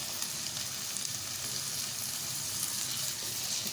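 Beef pieces frying in a pan over softened onions, giving a steady, even sizzle with faint crackle throughout and no talk.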